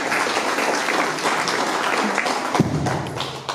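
An audience at a community discussion panel in Macuiltianguis, Oaxaca, claps steadily and densely for the whole stretch, with a few louder thumps near the end.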